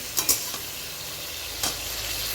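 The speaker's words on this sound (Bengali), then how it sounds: "মটরশুঁটিগুলোও দিয়ে দিলাম, মটরশুঁটিগুলো একটু কষালাম" Potatoes, tomatoes and peas stir-fry in a pan under a continuous soft sizzle, with a few sharp spatula clinks and scrapes near the start and another stir partway through.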